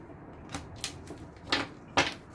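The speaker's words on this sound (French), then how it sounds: "On coupe. Et je vais prendre une carte par là." Cards in a deck are cut and a card is drawn from it, giving several short, sharp papery snaps and slides spaced irregularly, close and quiet, with no talking.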